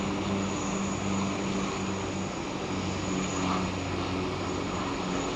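A Rex Airlines plane at Sydney Kingsford Smith Airport, a steady engine drone heard at a distance, even and unbroken throughout.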